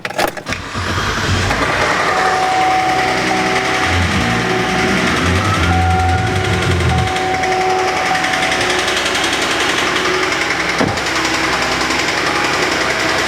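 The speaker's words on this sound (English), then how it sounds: "So you can hear that tapping." A GMC Acadia engine idles loudly up close with a rapid, steady metallic tapping from worn cam phasers and timing chains, a check engine light on, running continuously with a sharp click near the end.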